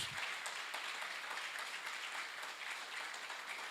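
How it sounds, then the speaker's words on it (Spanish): Church congregation applauding during a sermon about the resurrection, a steady wash of many hands clapping, fairly faint and distant, continuous throughout with no voices over it. "¿Puedes darle un aplauso fuerte a Jesús?"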